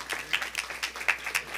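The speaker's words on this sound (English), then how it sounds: "Let's give him applause for that." Light applause from a church congregation, a short run of scattered, fairly close claps with an uneven rhythm and no talking over it.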